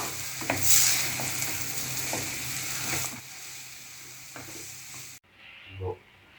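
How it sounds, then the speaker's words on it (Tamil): Moringa leaves sautéing in a pan with steady stirring scrapes and a soft sizzle, close and continuous until an abrupt drop to near-quiet, followed by one last brief scrape. "ஒரு 5 நிமிஷம் வதக்கி விட்டால் போதும்."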